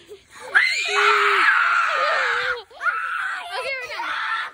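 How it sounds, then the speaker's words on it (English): A person screams as loud as possible during a game of Simon says, with a long piercing shriek, a brief break, then a second rising scream, all close and loud. "Simon says scream as loud as you can"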